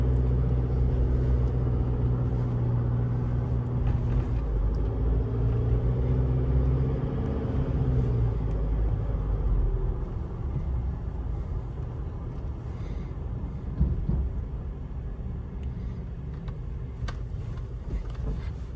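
A car driving slowly up hills on a country road to heat up a transmission fitted with a trans cooler produces a steady low engine rumble and road drone, easing slightly partway through, with no talk.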